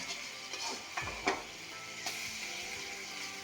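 Softened carrot pieces turned over in a frying pan, with a steady sizzle and a few brief scraping stirs and clinks of a utensil against the pan, close and fairly quiet.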